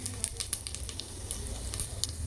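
Cumin seeds and curry leaves sizzle in hot oil, a close, steady frying hiss dotted with quick sharp crackles and pops, with no talking.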